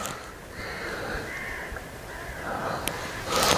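Drawn-out cawing from a crow carries across a ruined church site, several rasping calls in a row over a constant hiss of outdoor ambience, with no speech.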